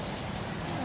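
Steady rain falling during an indoor parenting talk, a dense even hiss filling the whole moment with no clear breaks or voices.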